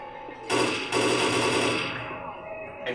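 Gunfire in the zombie shooter Left 4 Dead, a dense sustained burst of rapid automatic shots lasting a couple of seconds, loud and close, with in-game noise and a player's voice around it.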